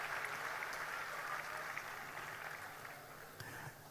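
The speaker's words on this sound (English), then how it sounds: "Please, can we clap for the Chief Judge of the FCT High Court?" A faint, steady wash of audience applause fills a hall at a national youth entrepreneurship programme, clapping for the Chief Judge of the FCT High Court. Many hands clap together continuously, heard from a distance.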